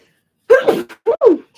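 A person sneezes twice in quick succession, two sharp, loud, close bursts about half a second apart, with silence before them.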